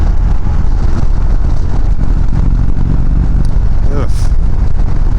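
A 2019 Indian Chieftain Dark Horse motorcycle cruising in sixth gear at about 75 mph and 2,800 RPM, its steady engine drone mixed with loud, constant wind rush throughout.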